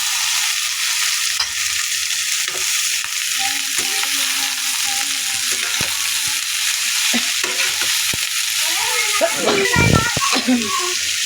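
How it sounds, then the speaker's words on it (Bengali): Boiled banana peel and potato stir-fried in a pan for a banana peel bhaji, a steady frying sizzle under scraping stirring that grows busier near the end, close and fairly loud with no talking. "তো এবার সিদ্ধ করা কলার খোসাটা আর আলুটা এখন ঢেলে দেব, দিয়ে ভালো করে নাড়াচাড়া করে ভেজে নেব।"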